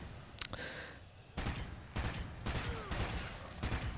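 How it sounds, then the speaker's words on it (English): Bursts of game gunfire fill a Call of Duty Ghosts Extinction cavern battle against flying gargoyles with a turret set up, with a sharp early shot followed by dense repeated volleys throughout. "I'm getting shot up by a gargoyle there as well."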